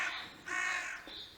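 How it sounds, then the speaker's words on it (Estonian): Three harsh, drawn-out caws of a crow, the middle one loudest, heard close and alone during a children's shadow-play stage performance. "Kraaks. Olen kuri vares."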